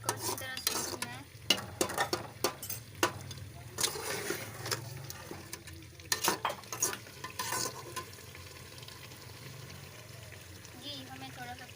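Kadahi gosht meat stir-fried over high heat in a pan, with repeated scraping spoon strokes and clinks over a steady close sizzle that fades toward the end.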